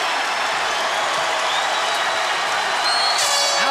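A UFC arena crowd applauds and cheers after a fight, a thick continuous wash of clapping and crowd noise, steady and loud from start to finish, with occasional whistles cutting through.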